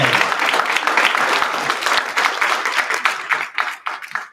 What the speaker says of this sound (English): please give a round of applause again for our wonderful experts and panelists today